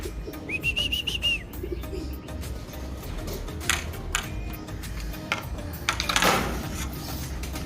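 A homing pigeon fitted with a GPS tracker settles after landing at a loft in Moncada, Tarlac, giving soft calls amid chirping birds and scattered knocks and rustles nearby.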